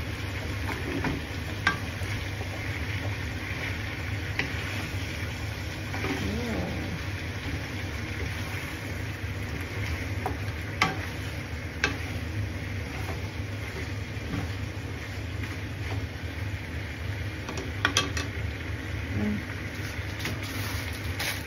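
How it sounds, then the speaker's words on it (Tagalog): Yakisoba vegetables stirred and fried in a pan, giving a continuous dense sizzle with occasional scraping clicks from the stirring, steady and close throughout. "Haluin natin."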